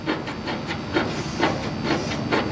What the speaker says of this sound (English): So we're gonna ream the inside, we're gonna ream the outside